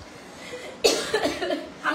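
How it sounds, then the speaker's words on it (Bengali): One sharp, harsh cough bursts out close by in a home setting, followed by a rougher trailing breath and a second softer cough at the end, with faint room noise underneath. "কাশি এসেছে"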